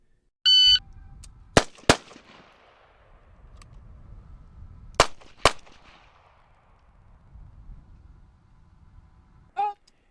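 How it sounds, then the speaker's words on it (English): Range drill with an M4 rifle and a pistol: two pairs of sharp, loud shots fired close together, each pair followed by a short echoing tail, with electronic tones at the start and end. "On command, shooters will fire 2 rounds center of mass"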